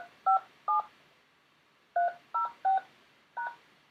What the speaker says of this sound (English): And we're going to go ahead and enter in our meeting PIN.